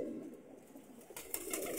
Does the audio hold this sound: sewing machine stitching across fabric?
no